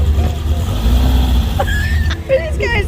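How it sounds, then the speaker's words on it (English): Cars driving past on a street in Imperial Beach, California: a loud low traffic rumble fills the whole stretch, with voices speaking over it. "Where are these cars coming from?"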